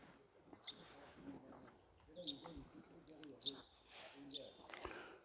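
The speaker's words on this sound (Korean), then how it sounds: "새소리가 아주 너무 아름답게 들리고 있어요." Bright, repeated bird calls ring out in short bursts every second or so, moderately near, over a faint murmur of background noise.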